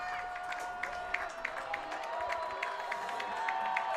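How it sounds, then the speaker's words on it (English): High school football crowd at Lawrence High versus Olathe South, cheering in a broad, fairly distant wash of noise with scattered claps and shouts, steady for a few seconds. "the crowd is starting to get into this"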